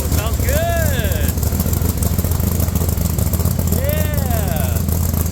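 A Rock Bouncer off-road buggy with a new exhaust idles loudly and steadily up close, while a voice speaks briefly over the engine twice.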